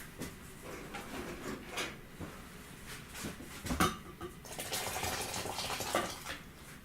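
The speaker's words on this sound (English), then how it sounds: "Now we can add more of the soup in there." Italian chickpea soup pours and sloshes into a container, a soft close liquid trickle with a brief clunk partway through and a fuller wet pour toward the end.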